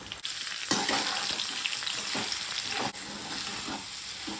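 Batter for patoli being mixed and fried in oil in a pan: a steady close sizzle with scraping stirs and a few sharp clatters of a utensil, no talk.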